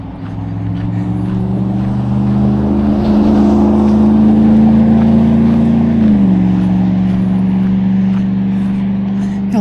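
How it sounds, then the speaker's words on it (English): Loud trucks with loud mufflers pass along a road beside the Montour Trail, a heavy engine roar building close by and holding strong, its pitch shifting partway through as another truck goes past. "a lot of trucks with these loud mufflers."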